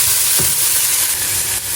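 Onion and green chili fry in a pan, a steady bright sizzle with a brief stir scrape near the start, close and loud throughout with no voices.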